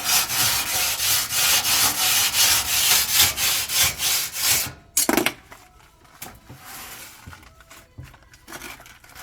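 Rhythmic back-and-forth rubbing as cleaning paste is worked across a grimy oven door, loud and steady strokes for several seconds, then softer scattered scrapes and taps.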